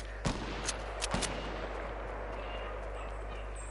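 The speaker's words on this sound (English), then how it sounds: "so many shots" Sharp gunshots from Fortnite gameplay, several quick separate cracks in the first second and a half, then a steady hum of game noise with no further shots.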